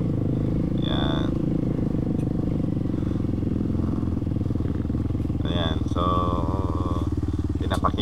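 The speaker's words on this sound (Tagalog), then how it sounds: "pinapakinggan din natin yung tunog ng motor," A motorcycle engine runs steadily and close on a mountain trip, with a constant droning rumble under intermittent talking.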